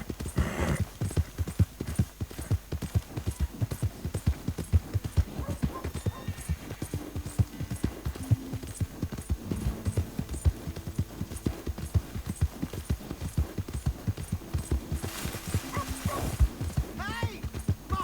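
Horse hooves gallop in a fast, steady rhythm throughout in Red Dead Redemption 2, with soft musical tones sounding briefly in the background.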